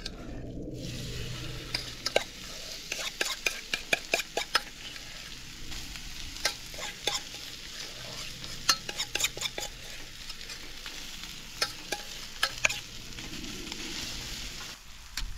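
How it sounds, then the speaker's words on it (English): Onions fry in a pan for a hash brown casserole, cooked outdoors while teardrop camping, giving a soft steady sizzle under repeated close scraping and stirring taps of a utensil against the pan. "Get some heat on the onion and get a little crust on the outside."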